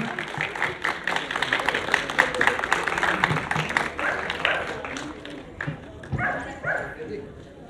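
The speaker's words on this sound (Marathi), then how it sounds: "टाळ्या वाजवून स्वागत करायचं आहे आपण." An audience claps through most of a prize-giving at a dog show in Latur, with a voice speaking over the applause and dog sounds mixed in.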